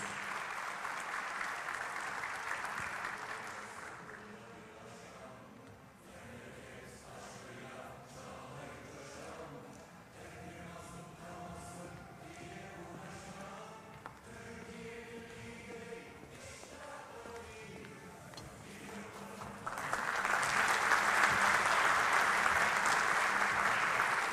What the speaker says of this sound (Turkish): Kuvvetli bir alkış rica ediyoruz.